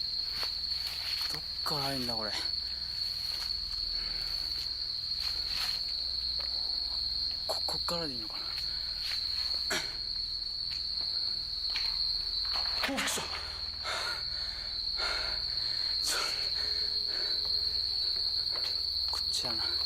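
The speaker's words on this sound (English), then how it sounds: "What is those crickets or something? That shit sound crazy." Steady high-pitched cricket chirring fills the whole stretch, with scattered clicks and brief rustling bursts over a constant background hum.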